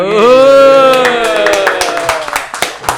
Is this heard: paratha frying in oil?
no